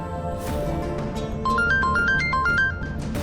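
A phone ringtone starts partway through, playing a bright, repeating stepped melody over a steady background bed, with no one speaking.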